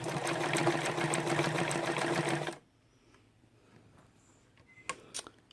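A Dressmaker SL-2010 sewing machine runs a fast, steady stitching burst for about two and a half seconds, close and loud, then stops abruptly, leaving quiet room tone and a few small clicks of handling.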